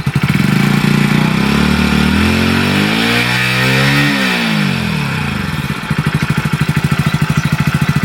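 Motorcycle engine revving loudly and close by during a riding lesson. The pitch climbs and then falls back, and a rough idle putter follows. No one speaks.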